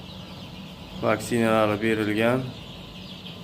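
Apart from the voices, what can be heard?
Andijan black chicks clucking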